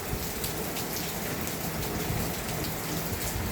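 Steady rain falls outdoors, a dense continuous hiss of drops on surfaces, close and fairly loud with no pauses or voices.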